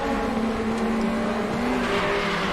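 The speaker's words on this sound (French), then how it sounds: "Oh, il y a une bagnole à côté." A race car engine in RaceRoom at Brands Hatch drones loudly and steadily alongside, holding a high, strained pitch throughout with no talking.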